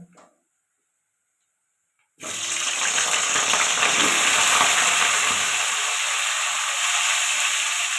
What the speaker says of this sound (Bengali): এবার এখন ফুলকপিগুলো ভেজে নেব